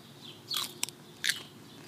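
Fresh garden peas picked straight from the vine bitten into, giving two crisp crunchy bites with a short snap between them, close up and fairly quiet, with no talking.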